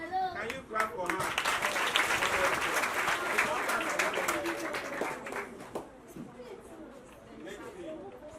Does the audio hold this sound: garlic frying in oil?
no